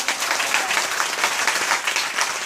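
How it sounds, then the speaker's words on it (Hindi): Church audience claps loudly during a sermon, a close, dense and steady wash of applause lasting throughout with no talk over it. "जोर से ताली बजाएंगे आप लोग"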